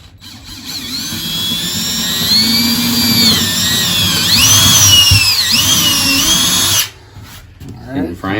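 A power drill bores through the steel frame of a 6x12 enclosed trailer while a Harbor Freight wheel chock is being installed, whining loudly and wavering in pitch for about seven seconds before cutting off, followed by brief talk.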